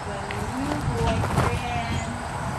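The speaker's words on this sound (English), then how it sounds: "Silver comes off that trailer like a pro." A gray gaited Tennessee walking horse steps off a horse trailer, its hooves giving a few hollow clops and thuds, mixed with outdoor noise and a person talking.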